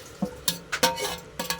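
Chopped onion tossed over rice in a pressure cooker for chicken biryani, heard as a few close, soft scattering thuds and rustles spaced through a short quiet stretch.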